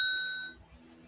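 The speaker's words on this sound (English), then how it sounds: "it's just a bell like you get on the hotel reception" A hotel reception desk bell struck once, a bright metallic ding with clear ringing overtones that decays over about half a second, close and alone.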